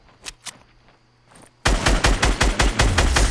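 Fortnite gunfire: a few separate shots pop out of near quiet, then a loud, dense run of rapid repeated shots breaks out and carries on steadily to the end.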